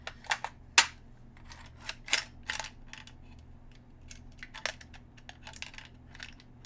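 Clicks and metallic snaps of a gun being handled and loaded, a scattered series of sharp transients, close and fairly quiet with no voice over them.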